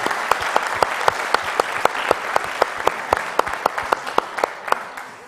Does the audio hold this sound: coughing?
no